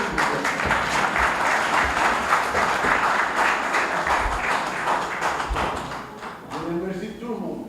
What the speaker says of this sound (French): Applaudissez s'il vous plaît.